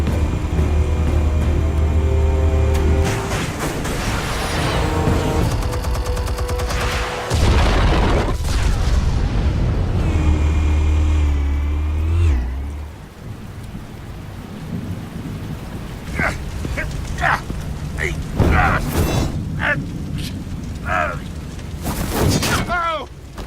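Heavy booming explosions in Batman: The Telltale Series come as dense roaring blasts over a sustained low rumble, then give way to scattered sharp bangs and clatter, with in-game voices and score mixed in.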